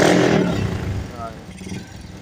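A motorcycle fitted with a 57mm big-bore block and a chicken pipe exhaust runs at half throttle, a loud, close, steady engine roar that eases slightly, with someone talking over it.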